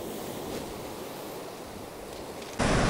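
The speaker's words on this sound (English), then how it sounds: "Some of those waves out there are huge." Ocean surf rolling onto Middle Cove Beach, a steady broad wash of breaking waves mixed with wind buffeting, with a louder gust or surge near the end; no voices.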